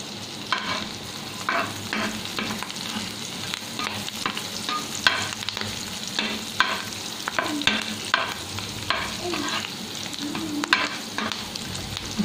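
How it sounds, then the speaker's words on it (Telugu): Fish egg fry with cumin, fenugreek and garlic is stirred in a sizzling pan, with a spatula scraping in repeated close strokes over a continuous fry, and no talk. "తర్వాత మనం దంచి పెట్టుకున్న జీలకర్ర, కొంచెం మెంతులు, ఎల్లిపాయలు వేసి మిక్స్ చేయాలి."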